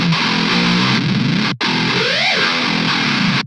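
A modern metal guitar runs through an Auto Audio 1111 with the cabinet simulation on, playing a dense, heavily distorted riff with one abrupt cut and a pitch-sweeping effect, loud and continuous.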